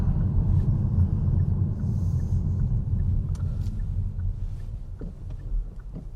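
Car interior on a road during a demonstration drive, a steady low engine and road rumble at moderate speed, constant and close with some wind noise, no talking.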